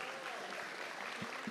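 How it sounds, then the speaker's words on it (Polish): Faint, distant applause from a crowd at a podium awards ceremony, a soft steady patter of clapping with a voice faintly present. "Wielkie brawa."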